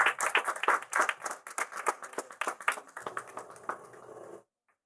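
Congregation in a Pentecostal church claps in praise, a dense run of sharp, fast hand claps that carries on steadily for about four and a half seconds and then stops abruptly.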